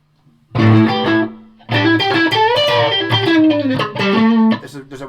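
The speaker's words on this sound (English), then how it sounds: "I put the reverb back on again? I'm not using that much distortion." An electric guitar through a Victory Sheriff amp with heavy reverb and light distortion rings out in loud, sustained phrases with bending notes and a washy tail, played close and alone.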